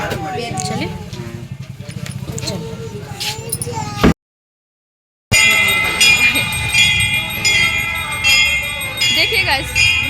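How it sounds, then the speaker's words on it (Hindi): A temple bell rings steadily during a puja, its clear metallic tones ringing out under people talking nearby, with a brief gap of silence partway through. "घंटा बज रहा है, यहाँ पर पूजा हो रही है"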